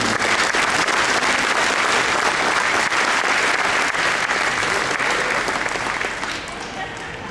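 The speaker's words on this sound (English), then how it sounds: "let's give the programs a round of applause" A tribal gathering's audience breaks into a long, dense round of applause, loud and sustained with a few whoops, then tapering off slightly at the end.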